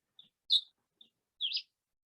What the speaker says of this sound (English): it's just breathing and listening to the birds